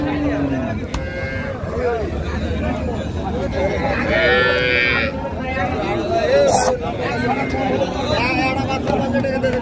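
A cow lets out long, loud mooing calls at a busy rural cattle market where cows and calves are sold, while people chatter and bargain nearby throughout.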